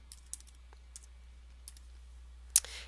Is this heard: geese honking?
no